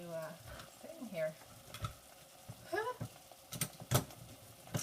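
Vegetables sautéing in a pot for a quick vegan veggie soup, with soft stirring scrapes and light sizzling heard close by, broken by a few sharp utensil clicks and clatters, all fairly quiet.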